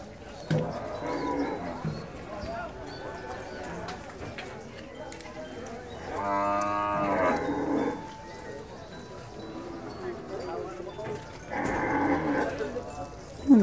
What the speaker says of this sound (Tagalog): Hindi, baka lang Steve.